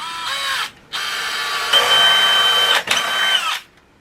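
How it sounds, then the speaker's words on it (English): Cordless power drill driving screws to fasten a hinge onto the cap of a milk crate, in several close, whining bursts of varying pitch separated by short pauses. "I'm going to screw this hinge on top of the milk crate here on the cap"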